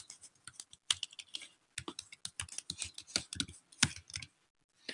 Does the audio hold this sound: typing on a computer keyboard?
yes